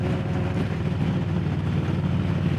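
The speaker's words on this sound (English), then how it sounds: "There's a tractor coming" A tractor on a backcountry road rumbles with a steady low engine drone, loud and close throughout, with wind buffeting over the sound.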